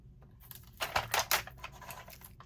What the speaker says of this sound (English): Now I want to put tape all the way around on the edge and on the bottom.